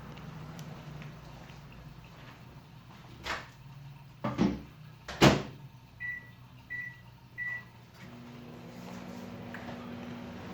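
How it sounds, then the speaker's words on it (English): A kitchen microwave oven, used to heat peanut butter pie filling: a low hum, a few door and cupboard thuds, three short beeps, then the steady hum starts again, close and fairly quiet. "we're gonna sit this in the microwave for about 40 seconds as well"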